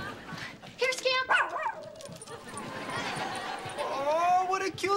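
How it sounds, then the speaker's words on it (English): A dog gives short yips and whimpering whines amid cheerful voices, the animal close by and the whines rising and falling between bursts of talk. "Oh, what a cute doggy."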